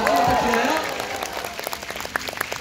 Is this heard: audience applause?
yes